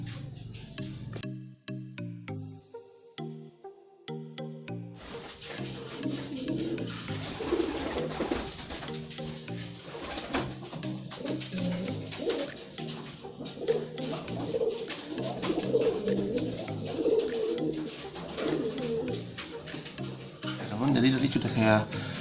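Domestic pigeon cooing close by, repeated low soft coos through a long stretch, mixed with rubbing and handling noises and someone talking over it.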